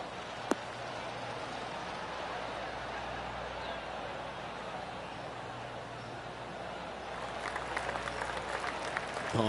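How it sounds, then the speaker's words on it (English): Steady crowd applause in a PGA Tour golf video game, a continuous soft patter of clapping that swells slightly toward the end, no voices on top. "Oh, golf clap."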